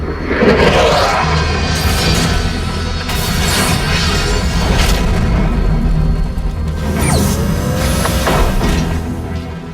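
In a dubbed Max Steel cartoon episode, a deep, rumbling explosion blast with heavy low booms and crackling debris, rolling on loudly for several seconds with no talk.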